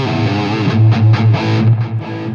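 Electric guitar run through a Nux MG-30 into a Marshall DSL100H tube amp with reverb, a loud distorted chord sustaining and swelling with a few re-struck notes, the wash of reverb filling out the sound with no talk.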